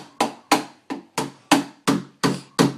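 A young child bangs a toy hammer in eight evenly spaced, sharp knocks, each a crisp hard hit that decays quickly, close and alone without talk.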